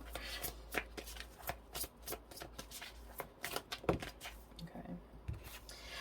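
Tarot cards being shuffled by hand, a quick series of soft riffling slaps and flutters at close range with short pauses between bursts, no voices over them.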